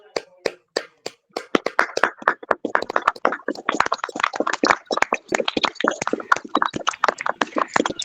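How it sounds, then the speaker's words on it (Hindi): A group at a women's fellowship prayer meeting claps loudly in thanksgiving, starting with a few sharp, separate claps that quickly build into dense, sustained applause. "प्रभु ने हमारी सारी प्रार्थना विनती को सुना है, इसलिए धन्यवाद देते हुए एक ऊंचे ताली लगाएंगे"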